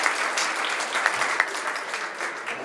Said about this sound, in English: let's put our hands together and give them another round of applause